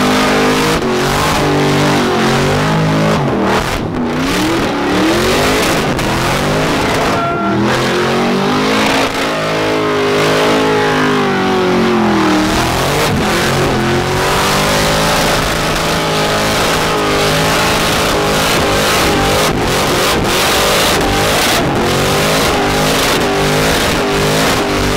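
A BMW engine with a custom equal-length exhaust manifold revs hard, loud and close, with rising and falling sweeps and barely a pause through the whole stretch.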